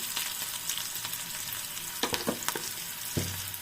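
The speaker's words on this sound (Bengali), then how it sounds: "আমি এগুলো ভেজে নেব পেঁয়াজগুলো নরম করার জন্য" Onions softening in a hot pan for a red amaranth and shrimp stir-fry, giving a steady low sizzle with a few sharper stirring scrapes and clatters partway through.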